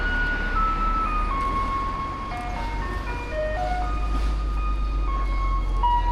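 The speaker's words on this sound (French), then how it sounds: "On commence par le bruit du camion poubelle de bon matin." Taiwanese garbage truck in Nan'ao on an early-morning round, playing a looping electronic melody of clear sustained notes over a steady low engine rumble, moderately close and continuous, with no talking.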